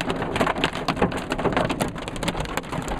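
Hail from a summer storm at Lake Alpine, California pounds a car windshield in a dense, constant clatter of hard impacts, loud and close from inside the car, with no talking.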